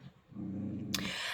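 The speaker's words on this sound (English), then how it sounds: "You can hear my Asher Basher in the background growling at the dog." A dog growls low and steadily in the background, indoors, and a sudden burst of broad, hissing noise cuts in near the end.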